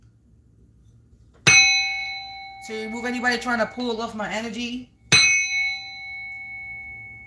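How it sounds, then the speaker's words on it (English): A hand-struck bell rings out twice, each a bright, sustained metallic strike that slowly decays; between the two strikes a person speaks, and the second ring sounds over the tail of the talk. "I'm going to bang this bell"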